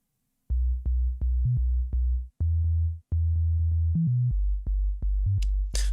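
Distorted slap house bass synth layer playing a bouncy, punchy riff of short plucked notes with a brief hiss sweep near the end, loud and alone without talk.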